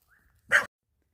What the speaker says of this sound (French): je vais avoir la visite d'un chien